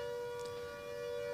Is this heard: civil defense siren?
yes